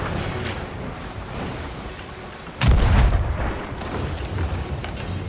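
A ship's cannon in Sea of Thieves fires a blunt firebomb, a sudden deep boom midway through that rolls off into a rumble over steady sea and wind ambience.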